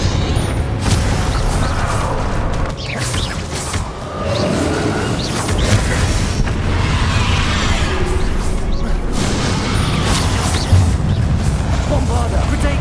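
Blasting spells explode during a Hogwarts Legacy final boss fight, a dense, loud stream of booms and crashing impacts that runs without a break, with a voice calling out over the blasts.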